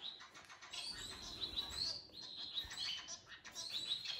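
An indoor pet canary singing, bright rapid trills and chirps in repeated bursts, close and clear over faint room noise.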